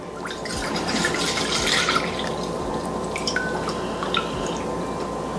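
Apple cider pours steadily into a pot, a continuous close liquid gurgle and splash with a few drips over about five seconds, with no talking.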